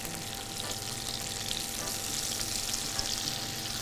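Chicken breast frying in a pan, skin crisping golden brown, giving a loud, steady sizzle that crackles throughout with no talking.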